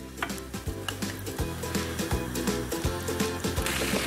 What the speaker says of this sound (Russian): Обжариваем до тех пор, пока на беконе не появится корочка.